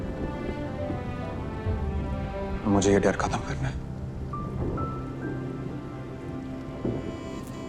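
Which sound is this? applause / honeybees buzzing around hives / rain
rain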